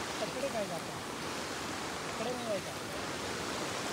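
Flood water rushes down a swollen Konkan stream as a steady, broad roar, with faint voices briefly audible beneath it.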